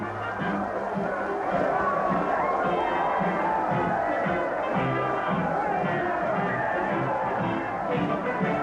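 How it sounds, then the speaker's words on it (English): Thousands of people greet a princess at Westminster Abbey with a deep, sustained roar of cheering that swells steadily, dense and unbroken with a murmur of crowd voices throughout. "A deep-throated roar swells in volume as cheering thousands greet the princess."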